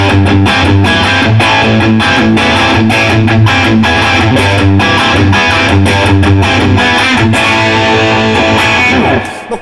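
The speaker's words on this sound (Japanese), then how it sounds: "今これスタジオ10だけで鳴らしている状態なんですけれども、まあこれでもね結構ねいい歪みするんだ" An electric guitar runs through a Studio 10 amp alone, with no pedal, giving a loud, continuous overdriven crunch of rhythmic strummed chords that cuts off abruptly near the end.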